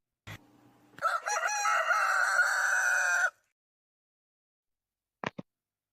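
A rooster gives one loud, close, full-length crow lasting about two seconds, with a brief knock before it and a couple of sharp taps after a silent gap.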